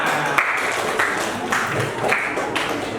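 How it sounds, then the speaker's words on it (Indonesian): A classroom group claps together in short rhythmic bursts, fairly close and steady, with a few louder accents. "Tepuk tangan."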